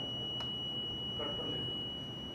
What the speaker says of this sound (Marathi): लॉन्ग बीप येत आहे, मशीन क्लिअर होत आहे